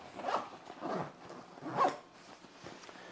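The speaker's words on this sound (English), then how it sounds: "So when we zip this up," Zipper on an EVERGOODS CHZ26 half-zip backpack being pulled closed in three or four close, rasping strokes, then faint handling noise.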